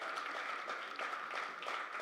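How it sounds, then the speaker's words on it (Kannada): An audience at a cricket league logo launch event claps for the organisers, a soft, even patter of applause heard from a distance and held steady throughout. "ಒಂದು ದೊಡ್ಡ ಚಪ್ಪಾಳೆ ಅವರಿಗೆ."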